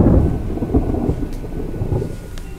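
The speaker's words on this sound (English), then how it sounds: "Oh, just some thunder rumbling right before I go up this door" Low rolling thunder from the Resident Evil video game rumbles steadily for a few seconds, loudest at the start, with a soft rainy hiss underneath and no voices.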